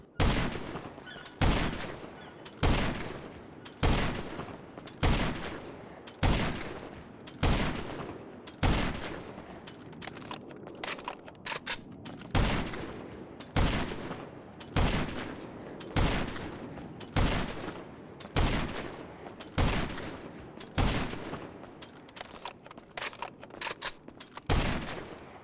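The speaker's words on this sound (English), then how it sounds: "Now we're going to go ahead and see how many shots it takes with the sniper rifle" In GTA Online, a sniper rifle fires repeatedly at a Raiju jet: about eighteen loud, heavy reports in a steady rhythm, roughly one every second or so, each with a short decaying tail, and no talk.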